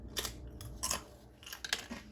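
Baked wonton wrapper chips, sprayed with cooking spray and oven-crisped, are crunched in a few quick bites: three or four sharp, close crackling bursts with brief pauses between, fairly faint overall.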